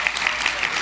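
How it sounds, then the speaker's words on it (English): Audience applause at the B Free Awards 2017, a Brooklyn community media awards show, a steady wash of many hands clapping filling the whole brief moment at even loudness. "That deserves a round of applause"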